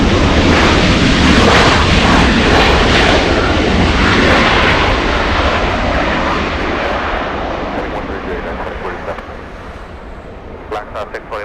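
A jet airliner departing LAX roars loudly nearby, a broad engine rumble that slowly fades as it climbs away.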